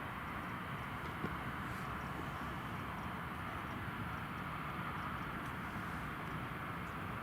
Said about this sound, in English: Brand new Ryanair Max